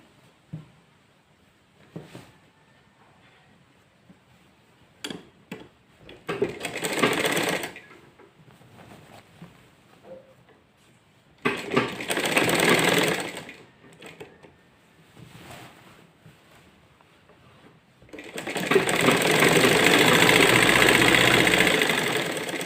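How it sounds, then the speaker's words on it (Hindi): Sewing machine stitching a salwar seam in short bursts: a few brief runs of whirring needle chatter, then a longer steady stretch near the end, close and fairly loud, with quiet handling between bursts. "इस तरह से हम पूरी सिलाई कर"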